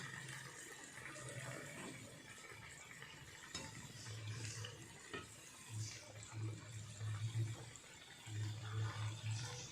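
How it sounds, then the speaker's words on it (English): Medu vada frying in hot oil over low to medium heat: a faint, steady sizzle and bubbling with soft intermittent low rumbles, quiet and close. "Just let it fry for some time and then we'll remove it."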